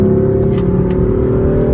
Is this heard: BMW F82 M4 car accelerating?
yes